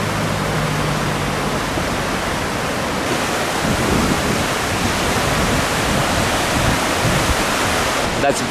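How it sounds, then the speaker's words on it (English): A fast-flowing river in Cork, Ireland, rushes beside the Southgate Bridge, giving off a steady, loud broadband roar that holds constant throughout with no pauses. "That's a very fast flowing river there."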